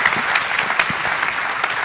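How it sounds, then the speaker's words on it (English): An audience gives a couple a big round of applause at a live event, producing a brief burst of dense, even clapping that carries steadily at full level for about two seconds. "a big, big round of applause"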